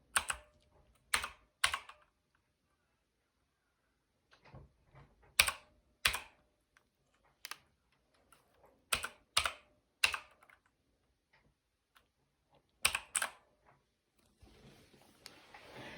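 Bursts of key clatter on an Acer Nitro 5 laptop keyboard as a Windows product key is entered, quick clusters of taps separated by pauses, close and fairly quiet, with a faint hiss near the end.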